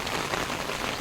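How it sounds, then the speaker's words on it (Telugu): Heavy monsoon rain pours down steadily, a dense close hiss of drops drumming on surfaces with no pauses. "కొంచెంసేపు వాన పడకుండా ఉంటే బాగుండు"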